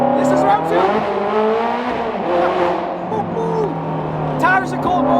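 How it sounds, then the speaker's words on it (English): Straight-piped Ferrari Challenge race car engine idling and blipping at low speed, a loud harmonic burble that rises and falls, with speech over it. "It's a straight pipe Ferrari. Race car, challenge car."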